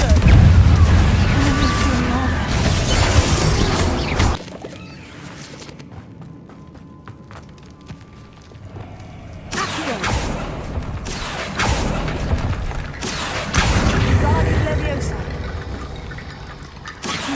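Confringo blasting spells explode in Hogwarts Legacy, loud crackling bursts that fill the first seconds, drop to a quieter stretch, then return in several more heavy blasts, with voices talking in between.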